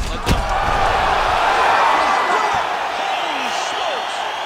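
A knockout strike in the EA Sports UFC 5 video game lands as one sharp, heavy impact near the start, followed by a steady arena crowd roar with commentary voices over it.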